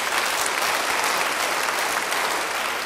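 A church congregation claps during a sermon, producing a steady, dense burst of applause that stays loud throughout.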